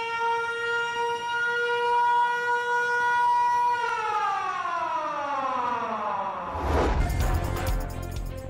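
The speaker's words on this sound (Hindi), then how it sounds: "सायरन बजाकर 1 मिनट की खामोशी अख्तियार की गई।" Civil defense sirens sound at a rally in Islamabad for a minute of silence, a loud sustained wail that holds steady and then winds down in pitch, followed by a burst of broadband noise.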